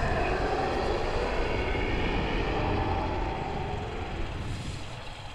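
A Tyrannosaurus rex call from the video game Path of Titans: a deep, rough, rumbling roar that holds loud for several seconds and slowly fades toward the end, with no voices.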